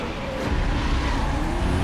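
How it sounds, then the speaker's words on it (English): Race car in Need for Speed: Most Wanted (2005, PS2) launching off the start line, a loud, steady engine roar held at high revs without a break. "As I nail it with the launch, and I also get just the right amount of revs to avoid wheel spin as well"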